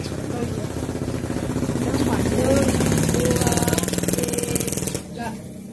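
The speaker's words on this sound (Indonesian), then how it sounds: "Motor." A motorcycle engine idles close by with a steady, rough, pulsing rumble that holds for several seconds and then dips near the end, while people talk over it.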